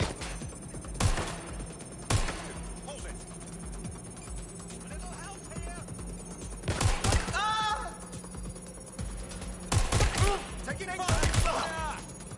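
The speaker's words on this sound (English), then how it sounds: "Somebody's shooting." Gunfire in the Watch Dogs Legion video game: several sharp, scattered shots and bursts stand out above a busy game mix, with voices talking throughout.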